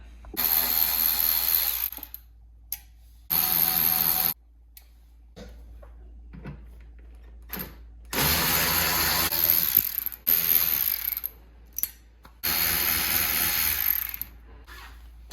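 Power driver backing out T15 Torx fasteners from a plastic inner fender on a 2017-2019 Chevrolet Silverado Duramax, heard as several loud whirring bursts of a few seconds each, separated by short gaps and small clicks.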